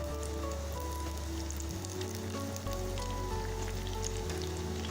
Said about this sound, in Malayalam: ഇനി നമുക്കിത് ഓരോന്നിട്ടിട്ട് ഫ്രൈ ചെയ്തെടുക്കാം